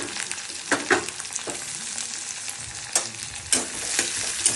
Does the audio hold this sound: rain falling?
no